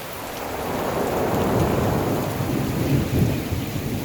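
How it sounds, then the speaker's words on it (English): A heavy thunderstorm with relentless rain and strong wind near Toledo on the Camino de Levante: dense, loud rain hiss with deep rolling thunder swelling and fading throughout, no voices. "Rain pours down relentlessly, accompanied by strong winds and cold temperatures."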